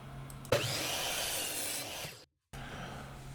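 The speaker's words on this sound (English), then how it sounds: "I take 2x4 and make a slot in it using my dado blade" A table saw dado blade cuts a slot into a 2x4, a loud, close grinding whine that starts abruptly and runs for about two seconds. A short silent gap follows, then the machine hum returns.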